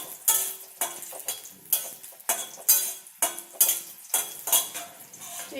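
Chopped tomato hits fried spices in a pan, giving a run of sharp clattering scrapes and stirring knocks over a faint sizzle, repeating roughly every half second, close and moderately loud.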